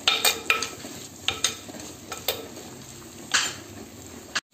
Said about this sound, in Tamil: இப்போ வந்து வெங்காயம் வந்து வணங்கிட்டு இருக்குதுங்க.